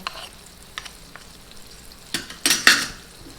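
Caramel for popcorn boils in a pot, a soft, steady bubbling sizzle with a few sharp pops and brief clinks that grow louder toward the end.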